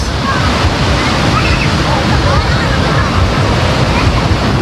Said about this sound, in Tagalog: Mataas ang alon, malakas.